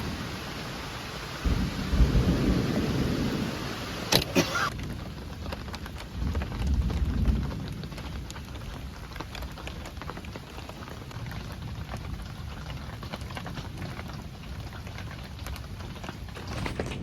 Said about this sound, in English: It's a damn good thing we got that tarp up when we did, because it was raining.